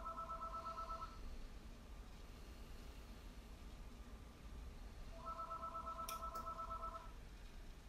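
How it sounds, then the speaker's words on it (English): A phone rings in two electronic multi-tone bursts several seconds apart, faint over a constant background hiss. "my phone is ringing. The real phone."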